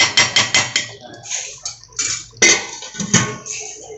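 Metal lid and spoon clattering against a pot of chicken curry, several sharp clanks in a quick rhythmic burst followed by softer scraping and knocks, close and fairly loud with no voices.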